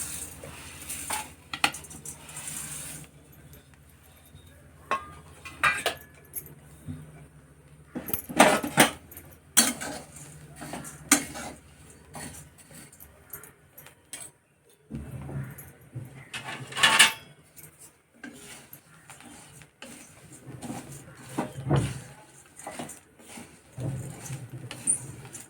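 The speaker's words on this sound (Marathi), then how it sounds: "हे पोहे आपण आता भाजून घेऊया" Flattened rice (poha) is dry-roasted in a metal pan at home, with intermittent scraping, rattling and clinks of a utensil against the pan, close and irregular, separated by quiet pauses.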